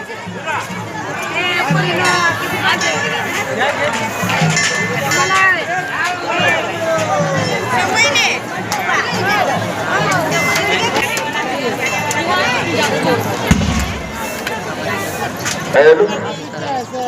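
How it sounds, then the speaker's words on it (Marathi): Dense crowd at a village fair for Birobachi Jatra in Arewadi, a continuous hubbub of many voices chattering all around, steady and fairly loud throughout. "बघू शकता किती गर्दी आहे."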